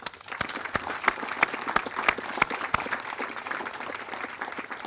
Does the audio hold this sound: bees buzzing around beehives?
no